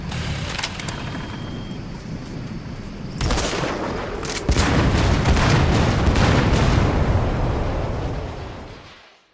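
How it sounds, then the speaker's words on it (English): A separator tank blows up in Metal Gear Solid V: heavy booming blasts hit in two waves, leaving a dense rumbling roar that slowly dies away to silence. "Though security will be tighter after that explosion."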